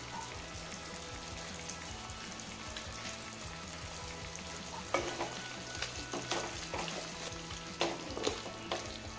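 Pumpkin palya being stirred in a pan after roasted peanut powder is added, a soft continuous sizzle with a series of sharper scraping stir strokes in the second half, close and fairly quiet.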